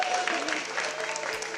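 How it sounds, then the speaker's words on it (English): An indoor audience gives a burst of applause, a dense patter of clapping at moderate level that lasts the whole stretch. "Round of applause."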